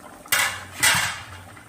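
A lid set down over a pan of tengra fish in a home kitchen, giving two close metallic clatters about half a second apart that ring briefly and fade.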